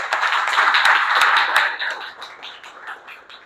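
An audience applauds at a Toastmasters speech evaluation event, a dense burst of many hands clapping that holds strong and then gradually thins and fades, with no talk over it.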